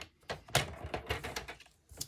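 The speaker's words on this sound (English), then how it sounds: "And I'm going to cut these guys on the score lines." Scissors or a blade cut through paper card along score lines for a pumpkin card, giving a series of short, close, crisp snips and crunches with brief pauses between cuts.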